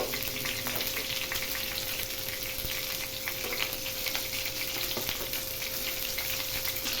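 Stuffed brinjal frying in oil in a pan, a steady close sizzle with faint crackles running unbroken throughout, no voices.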